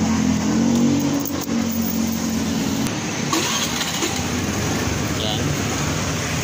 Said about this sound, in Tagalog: Tapos kung sa tunog pa ng makina niya,